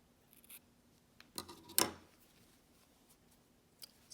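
Scissors snip through knitting yarn while finishing a baby hat, one quick close cut with a soft rustle of handling around it, otherwise quiet.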